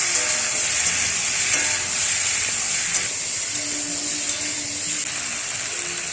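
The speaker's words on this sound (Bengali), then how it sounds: "লবণ দিয়ে আবার নেড়ে চুড়ে নেব।" Six kinds of mixed vegetables fry in oil in a wok with green chilli, turmeric and salt, giving a loud, steady sizzle with soft scraping from stirring throughout and no talk.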